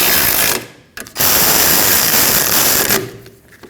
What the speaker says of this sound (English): And then tighten those 2 12mm bolts.